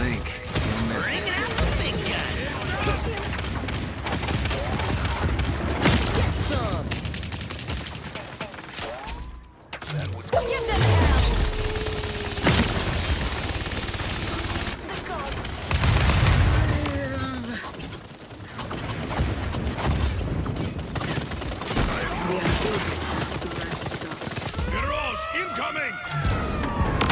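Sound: gunfire in the video game Paladins

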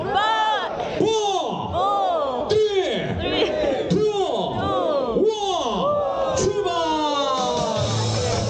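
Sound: crowd of marathon runners cheering on command for ten seconds

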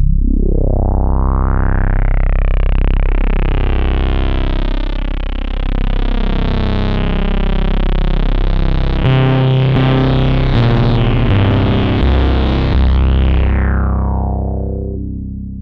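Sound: Motor Synth playing deep notes with filter drive fully up

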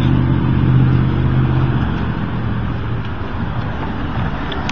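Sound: electric trolley bus passing

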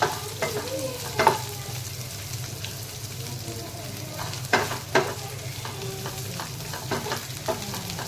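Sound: sautéing onion and chilies on low gas flame

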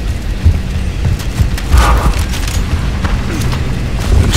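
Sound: fuel tank explosion in video game Gears of War

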